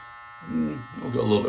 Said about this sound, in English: So yeah, let's go ahead and start this beard trim.